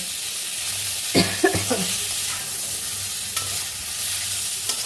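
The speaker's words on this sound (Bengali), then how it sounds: "যারা পটল ভাজা খাবে তারা এই এই অবস্থায় তুলে রাখতে পারো" Pointed gourd (potol) fries in a little oil with a steady soft sizzle, and a few scraping stirs of a spatula sound close by.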